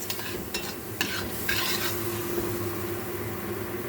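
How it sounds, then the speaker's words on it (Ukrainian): Garlic frying in a pan for an eggplant adjika: a close, steady sizzle with a few quick stirring scrapes and clicks near the start, continuous and fairly loud. "Зараз часник так підсмажиться"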